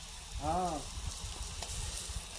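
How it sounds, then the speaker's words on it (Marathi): Green masala paste of garlic, ginger and coconut fries in a pan with a faint, soft sizzle, and a brief voice sounds near the start. "त्याच्यामध्ये आपण हा हिरवा मसाला भाजून घेऊया"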